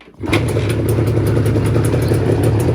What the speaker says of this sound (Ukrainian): Так, ну дивіться, заводиться він легесенько.